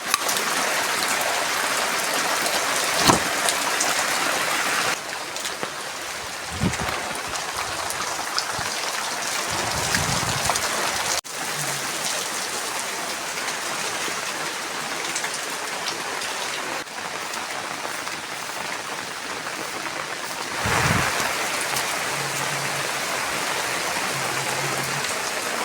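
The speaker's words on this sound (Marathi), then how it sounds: "बाहेर पाऊस बघा किती पडत आहे सकाळपासून" Heavy rain pours steadily outside in monsoon weather near a waterfall, a dense continuous hiss lasting throughout with a few brief thumps and bumps close by, no voices.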